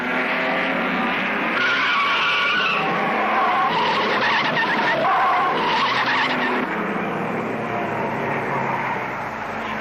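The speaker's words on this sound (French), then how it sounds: "Haas part en tête à queue et il ralentit la course." A 1930s Grand Prix race car spins out at Monaco, heard as a loud, sustained tyre screech and engine roar swelling and fading over several seconds, with old, noisy recording quality.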